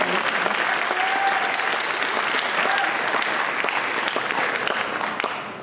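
Sustained audience applause for two debate teams' speeches at a debate on liberalizing international trade, a dense, steady wash of many hands that holds loud for several seconds before starting to fade at the end.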